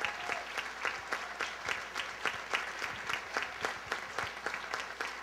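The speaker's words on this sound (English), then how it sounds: "give her a big round of applause." An audience at a children's choir performance applauds its director with a sustained round of clapping, many hands together in a fairly even, moderately loud wash.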